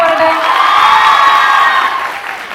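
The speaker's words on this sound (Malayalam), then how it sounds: "അപ്പൊ പോരട്ടെ കയ്യടികൾ" An audience at a film promotion event for a movie starring Unni Mukundan and Mahima Nambiar applauds and cheers loudly, a dense sustained wash of clapping and whoops that fades slightly toward the end.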